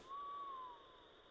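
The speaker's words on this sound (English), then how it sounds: "where's my bird call?" A bird call item in Thief II gives one clear, hollow owl-like hoot that slides gently in pitch, heard alone against a quiet background.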